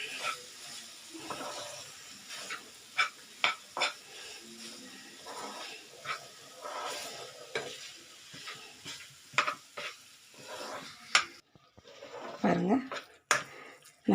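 A sweet khoa mixture for lounglata being sautéed in a pan without added oil or ghee, with intermittent scraping and stirring clatter close by and occasional soft sizzling.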